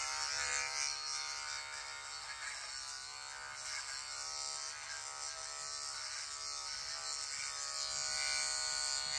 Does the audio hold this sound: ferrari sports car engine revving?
no